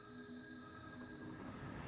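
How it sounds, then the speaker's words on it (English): A coal train running in a factory-building video game gives a steady, quiet rail rumble with faint humming tones, continuous and even throughout, with no talk. "Here's my coal train."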